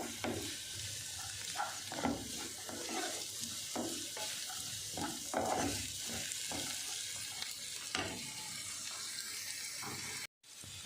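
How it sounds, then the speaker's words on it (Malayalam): Onions sautéing in a pan for an egg roast, a broad, watery sizzle with soft stirring scrapes throughout, quiet and close, with no voice, ending in a brief cut. "അപ്പോൾ സവാള ഇട്ടിട്ട് നന്നായി വഴറ്റിക്കൊണ്ടിരിക്കുക."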